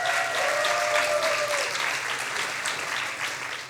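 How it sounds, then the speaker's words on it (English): An audience at a science slam in Berlin gives a volunteer warm, sustained applause, dense clapping from a large crowd that holds steady and tapers slightly at the end. "Great applause"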